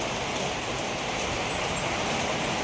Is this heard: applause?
no